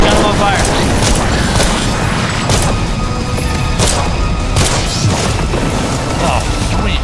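Heavy gunfire and a burning explosion in a video game battle set in Parliament, a loud continuous roar of booms and crashes with repeated blasts, close and dense, while someone talks over the din.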